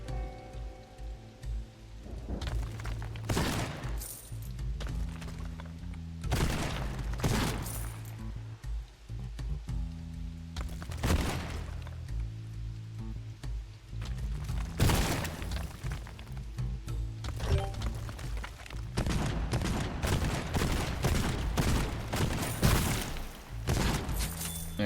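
Rapid, repeated gunshots from the Slugger shotgun in Borderlands 2, sharp cracking blasts in quick bursts throughout, loud and close over steady game background hum.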